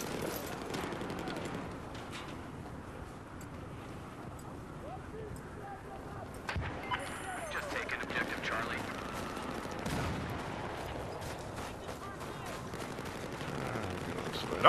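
Distant and close gunfire in Battlefield 4 on Operation Locker, hardcore Domination mode, pops in scattered shots and short bursts over a long stretch while a player talks throughout.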